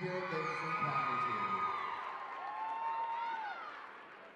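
Crowd at a dance competition awards show cheering for a dancer, loud sustained whoops and shrieks from many young voices over applause, tapering off toward the end.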